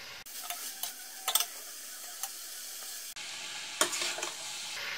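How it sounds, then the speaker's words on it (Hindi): Boiled noodles stir-fried and tossed in a pan over a full gas flame for veg Hakka noodles, with a continuous close sizzle and hiss broken by sharp clanks and scrapes of stirring. "अब इसमें नूडल्स डालेंगे जो हमने बॉईल करके रखे थे, साथ में मिक्स करते जाएंगे। गैस को अभी हमने फुल कर देना है।"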